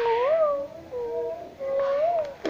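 A human voice imitates a cat, giving a few drawn-out, wavering meows with short pauses between them.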